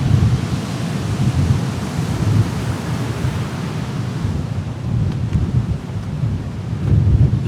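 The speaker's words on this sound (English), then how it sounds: "Looks like the storm's blowing back in." A storm blows back in over Thailand, with a dense, continuous roar of rain and wind and low rumbling thunder rolling steadily throughout, loud and close, with no voices.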